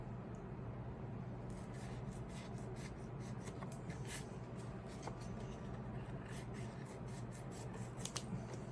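Scissors snip through a foam sheet for a giant foam sunflower, giving soft, close rubbing and crisp cutting sounds in a quick irregular series against a faint steady background, with no talking.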